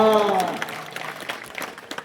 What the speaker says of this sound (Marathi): जरा टाळ्या पाहिजे. टाळ्या ह्या कुस्तीसाठी.